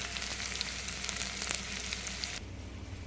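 Pinches of asafoetida crackle and sizzle steadily in hot oil for a tadka, a close, continuous frying hiss that drops quieter near the end as the heat settles.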